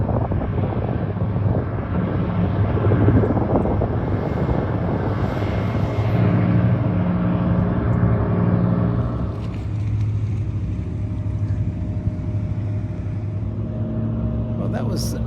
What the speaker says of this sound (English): this is the first time I've ever seen a barge or boat like this on the Missouri River